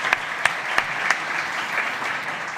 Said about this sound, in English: I think he deserves a big round of applause